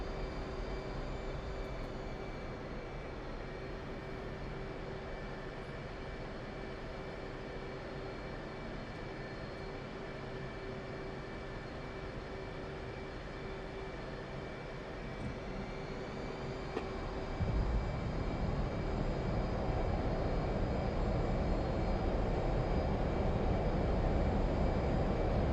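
F/A-18C jet engine roaring in afterburner in the DCS World flight simulator, a loud continuous rumble with steady whining tones that thickens into a heavier roar partway through.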